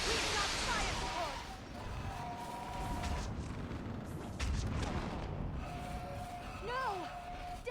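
Artillery fire support in the video game Mass Effect 3, heavy booms and rumbling blasts rolling under game voices and scattered effects.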